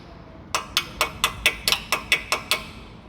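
Eleven sharp metallic taps strike in a quick, steady rhythm as a hammer knocks a car's tie-rod end or stabilizer bar link into place, close by with a low background hum.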